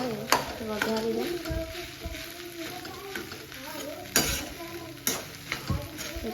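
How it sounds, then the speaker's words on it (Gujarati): Leftover rice is tempered in a hot pan with a soft, steady sizzle. Sharp scrapes and knocks of a spoon stirring break through at intervals, and the whole scene is moderately quiet. "સરસ મજાના ભાત વઘારું છું"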